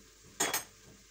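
Two quick, close clinks of a spoon against a bowl while wheat couscous is mixed with oil, then quiet.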